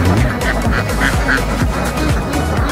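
Many ducks quack loudly and continuously at a rural duck farm in an Indonesian rice-harvest area, a dense overlapping chorus of calls with no talk.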